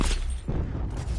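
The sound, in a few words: cluster grenade explosion in Call of Duty: Black Ops 4 video game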